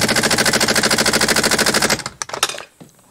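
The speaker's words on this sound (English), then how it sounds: "we've got our impact gun on low here" Pneumatic impact gun on its low setting hammering on a W126 Mercedes steering column, a loud rapid rattling burst of even blows for about two seconds, then stopping with a few clanks and clicks.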